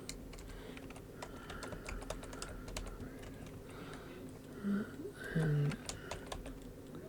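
Steady computer keyboard typing, quick clustered key clicks running throughout at close range, with a brief spoken word partway through.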